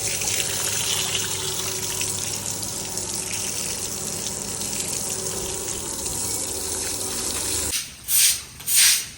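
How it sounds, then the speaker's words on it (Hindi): Water runs and splashes while a dusty, muddy courtyard floor is washed, a continuous gushing hiss that stops abruptly near the end, followed by two short bursts of noise. "इसका सैन धोया जा रहा है"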